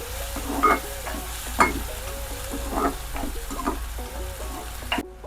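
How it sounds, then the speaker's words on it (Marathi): Onions, two small ones, stirred and sautéed in a pan over low heat until lightly browned, giving a steady soft sizzle with repeated scraping and stirring strokes close by, and no talking. "परतून घेऊया. थोडेसे ब्राऊन होईपर्यंत परतून घ्यावे."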